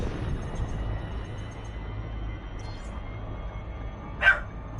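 A dog gives a single short bark, faint and off to one side, over a steady low background hum near the end of a quiet stretch.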